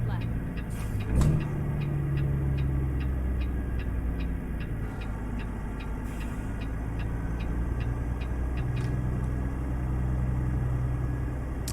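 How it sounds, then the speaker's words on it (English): A Caterpillar C15 truck engine in a driving simulator game idles with a steady, deep low rumble throughout, joined by a regular ticking like a turn signal, while someone speaks over it. "I am a fan of this engine sound though."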